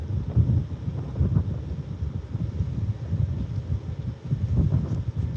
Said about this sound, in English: It's a windy day here